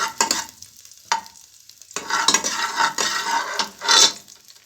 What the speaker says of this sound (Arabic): هنزل دلوقتي بقى بالكرشه